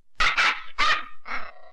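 A dog barks three or four times in quick succession, loud and close, the last bark shorter and softer, with no talking over it.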